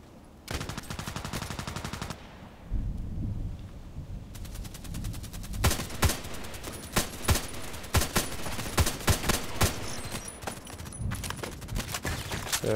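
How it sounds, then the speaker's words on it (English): Rapid bursts of gunfire from an HK417 rifle in a shooter video game, with sustained automatic volleys and sharp repeated shots, loud and close, continuing throughout with brief lulls. "Six long shots."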